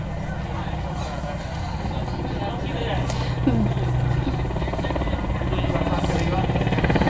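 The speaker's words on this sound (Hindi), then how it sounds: "एक बार फिर जो विमान है वो एम्स की तरफ आ रहा है" An Indian Air Force aircraft flies over AIIMS hospital showering flowers, its engine drone rising steadily in the distance while a reporter talks over it.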